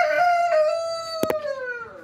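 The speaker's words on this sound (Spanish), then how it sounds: "Ese canto del gallo" A rooster crows once in a long, drawn-out call nearby, with a couple of sharp clicks partway through.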